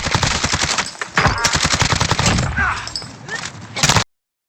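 Rapid automatic gunfire from the Warzone video game (Modern Warfare) rattles in loud, dense bursts, with short pauses between volleys, and a voice speaks over parts of it before the sound cuts off abruptly.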